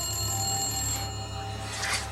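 A telephone in a film scene rings with a repeated electronic trill, moderately loud and steady over a low background hum, with no voices.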